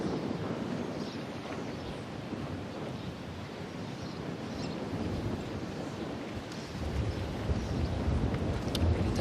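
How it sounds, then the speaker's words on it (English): Steady gusting wind blows outdoors at a women's pairs lawn bowls match at the New Zealand Open, a continuous broadband rush that swells slightly toward the end, with no voices. "Can hear that wind gusting."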